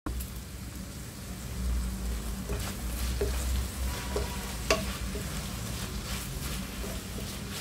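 Curry leaves and green chillies sauté in hot oil in a pan for a Kerala-style egg curry, giving a steady close crackling sizzle with occasional soft clicks of stirring.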